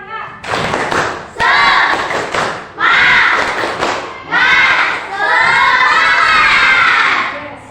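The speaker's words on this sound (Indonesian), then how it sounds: "kita mulai pembelajaran dengan tepuk semangat" Schoolchildren in a classroom doing a rhythmic spirit clap chant, with bursts of loud shouted chanting and claps in repeated phrases from a close group of young voices.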